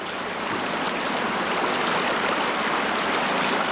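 Steady broadband rush of a river flowing in winter, an even, continuous hiss heard close by with no voices over it.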